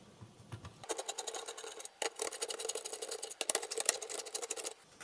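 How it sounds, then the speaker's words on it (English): A 14mm hex socket loosens the input jack nuts on the panel fascia of a 1985 Casio AS-20 keyboard amplifier, giving rapid, close ratcheting clicks in several bursts separated by brief pauses. "They are removed from the panel fascia using a 14mm hex socket."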